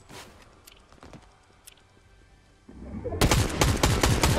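Rapid bursts of automatic gunfire in a video game shooter, loud and sustained in the last second and a half, preceded by quieter footsteps and scattered shots.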